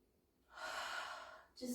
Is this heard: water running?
no